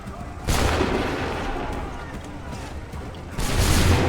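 Musket volleys in Assassin's Creed 3, two loud broad blasts of massed gunfire, one near the start and another near the end, with a rumbling battle din between them and no voices in the clip.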